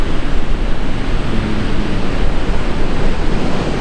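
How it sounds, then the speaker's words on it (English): Ocean waves washing onto the shore at sunset on a backpacking trip, a loud, continuous broadband roar of surf, close and steady, mixed with some wind rumble and no talking. "Listen to that ocean."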